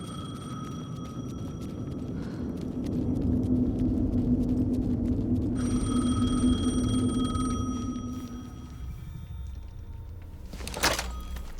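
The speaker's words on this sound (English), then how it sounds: "The phone again." Telephone ringing in the game Alan Wake 2, a repeated electronic ring tone in bursts over a low ambient rumble, with a brief loud thump near the end.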